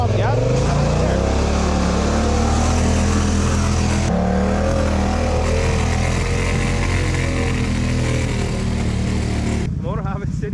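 An ATV engine accelerating on a muddy, rainy trail at an off-road park, with a loud, close, continuous drone that shifts pitch as the throttle opens and briefly eases near the end, and people talking over it.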